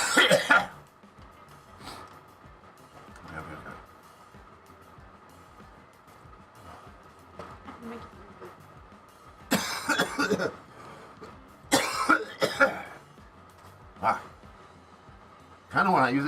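Harsh coughs and throat clearing during a cannabis dab session: a loud burst at the start, then sharp clustered coughs around the middle and again near the end, over a low murmur of background voices.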